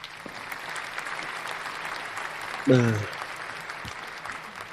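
Steady applause from a crowd, clapping continuously at moderate volume with a brief voice rising briefly above it.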